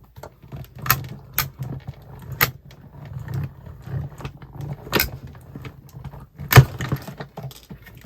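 Die plates cranked through a manual die-cutting machine, number 3 plate, cutting small pansy flower shapes: a run of sharp clicks and clunks with a low grinding roll underneath, one louder clack near the end, close by with no talk.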